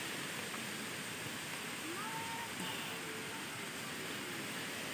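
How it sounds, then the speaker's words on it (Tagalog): Continuous rushing water from a flowing stream, steady and broadband, filling the whole stretch with no breaks. "May naririnig akong batis dito."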